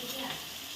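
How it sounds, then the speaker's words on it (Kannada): Tomatoes sizzle as they fry in a pan on a home stove, a brief steady hiss of hot oil close by. "ಎಷ್ಟೊತ್ತು ಫ್ರೈ ಆಗಬೇಕು?"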